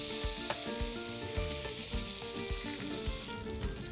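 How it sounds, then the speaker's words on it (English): Marlin fillet frying in a hot pan with lime juice, a close, dense, continuous sizzle with crackling pops scattered throughout and no talking. "I always like to cook my fish with a little bit of citrus, lime juice."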